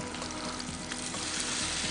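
Salmon pieces fry in a hot pan with a loud, continuous, dense sizzle and crackle that holds steady throughout.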